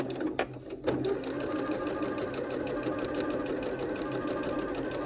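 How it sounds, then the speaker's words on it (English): A sewing machine stitches the final seam of a pinwheel quilt block, a steady rapid mechanical whirring chatter up close after a couple of brief clicks at the start, with no talking. "now we're going to stitch that final seam closed"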